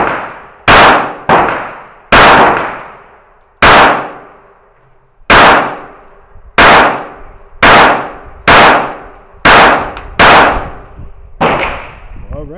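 About ten loud, sharp gunshots from a 20 PLR pistol fired into DIY reusable rubber range targets, spaced irregularly, each crack followed by a short decaying ring, close and alone.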